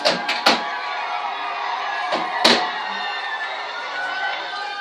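A crowd greets Guinean president Alpha Condé as a hero beside the Seine, producing a steady wash of distant cheering and chatter, punctuated by a few sharp claps or slaps.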